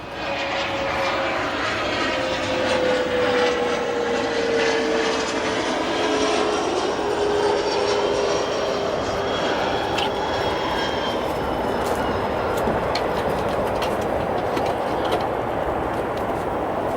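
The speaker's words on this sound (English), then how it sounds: "that aircraft, a Mitsubishi CRJ 200, as it slows on runway 10 center" A Mitsubishi CRJ 200 regional jet slows on runway 10 center at O'Hare, its engines giving a loud, steady roar with a whine that slowly falls in pitch and lasts throughout, with no voices.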